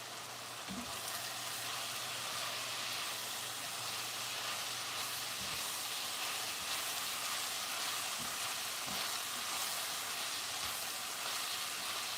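Pantry-meal ingredients fry in a skillet, giving a faint, even sizzle and hiss that runs without pause, with a few soft knocks and no talking.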